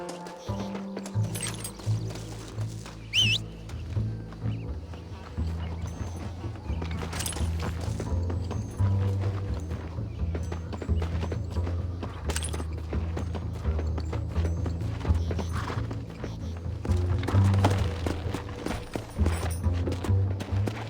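Horse hooves clip-clop steadily in the Red Dead Redemption video game, a continuous rhythmic stream of hoofbeats over a low background rumble for about twenty seconds, with no talking.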